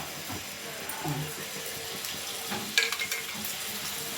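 Ginger, garlic and green chili fry in oil on a tawa, giving a steady low sizzle with a few scraping stir sounds and a brief clatter near the end.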